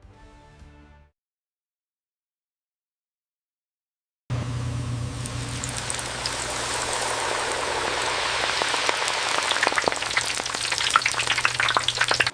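Instant noodles fry in oil on a robotic factory line, giving a steady crackling sizzle full of tiny pops that begins after a silent gap and keeps going.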